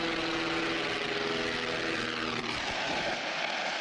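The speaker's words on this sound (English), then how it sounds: "The chilling sound of a single-engine Beechcraft as it crashes into a multi-family home in Keene, New Hampshire." A single-engine Beechcraft plane crashing into a multi-family home in Keene, New Hampshire: loud, steady engine roar with a droning tone that cuts off abruptly near the end into a brief rumble.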